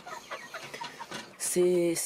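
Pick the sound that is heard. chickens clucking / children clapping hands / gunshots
chickens clucking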